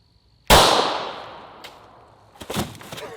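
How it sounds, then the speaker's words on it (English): A single loud, sharp shot from a Glock 23 firing .40 Smith & Wesson cracks out close up, then rings into a long fading tail, with a few small knocks and rustles afterward. "40 Smith & Wesson out of the Glock 23"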